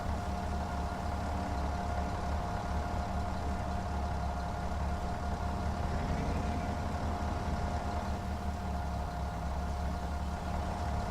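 A tractor engine idles on a potato harvest, a steady low mechanical drone with a constant humming tone that stays even and unbroken throughout, heard from nearby with no talking.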